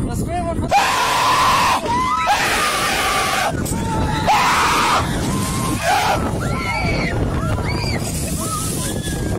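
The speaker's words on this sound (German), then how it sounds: "Der Schrei war auch so laut, der hat fast die Schallmauer durchbrochen." Loud screaming and yelling from a crowd at Oktoberfest, rising in repeated bursts with a few shrill individual shrieks over constant noisy background din.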